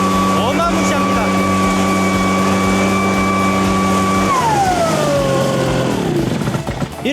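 A Kama HD-999 engine leaf blower runs at a steady high roar close by, then its pitch drops as the throttle eases toward the end.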